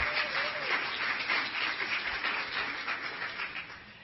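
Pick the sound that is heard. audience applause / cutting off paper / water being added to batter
audience applause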